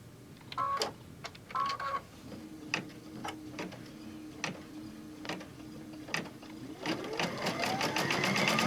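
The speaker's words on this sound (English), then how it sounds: "it's going to sew a box to hold everything down" Embroidery machine stitching a mug wrap held in the hoop: sharp mechanical clicks and beeps open, then a steady rapid run of needle strikes with a hum, quickening into a dense, faster stitching burst near the end.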